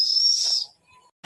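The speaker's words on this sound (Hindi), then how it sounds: "सीटी मारे के मतलब है वो बतावा था कि दाल तोहार पकी गई बा" A pressure cooker whistles while dal cooks: one loud, steady high whistle lasting just over half a second, then cut off, followed by faint scattered clinks and a soft tone before near silence.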